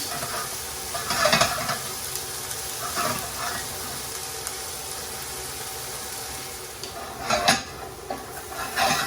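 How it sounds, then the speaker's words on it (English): Onions frying in a pan over medium heat for a restaurant-style chicken jalfrezi, a steady close sizzle with bursts of stirring and scraping against the pan. "we're going to fry the onions on a medium heat for around 6 to 7 minutes"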